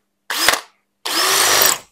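A power drill bores through wall tile in two bursts, a short whine followed by a longer steady high-pitched grind, close and loud with silence between.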